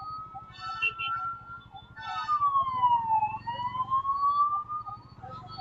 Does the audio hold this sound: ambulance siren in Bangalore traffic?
yes